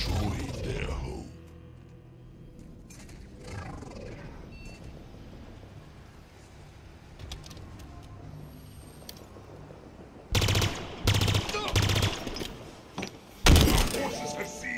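Plasma rifle fire in Halo Infinite arrives in several sharp, loud bursts near the end, following a stretch of quieter game ambience with a voice speaking early on.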